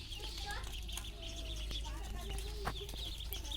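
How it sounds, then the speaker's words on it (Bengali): Fifty three-day-old native ducklings on a farm chirp in overlapping high, thin peeps, with a scatter of quick calls in a busy, close chorus over a low background hum. "এগুলো হলো দেশি হাঁসের বাচ্চা"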